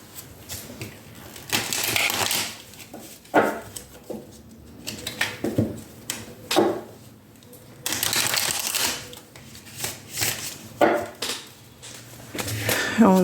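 Cards are shuffled in repeated bursts of riffling and sliding, close up, with brief pauses between rounds.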